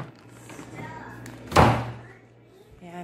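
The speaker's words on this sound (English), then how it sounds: "Close natin yung door." A household door is pushed shut, making a single muffled thump midway through, with faint room noise around it and a little movement afterward.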